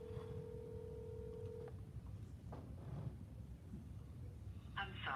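A telephone call being dialed and ringing: a steady tone that cuts off, followed by faint scattered beeps and a short burst of ringing near the end, over a constant low background hum.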